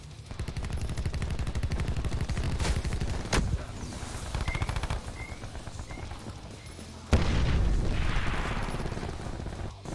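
Gunfire in Call of Duty Black Ops 4, rapid automatic bursts alternating with single heavy shots and thuds, loud and close, with a fresh burst breaking out near the end.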